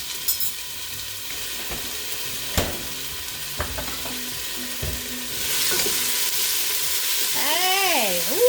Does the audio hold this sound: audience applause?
no